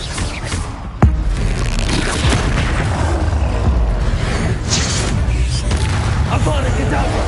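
A spell cast in the video game Hogwarts Legacy lands as a sudden loud boom near the one-second mark, then gives way to a dense, continuous rumble of game effects and ambience that lasts to the end.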